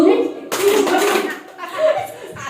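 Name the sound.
audience clapping and saying 'who' in an ice-breaking game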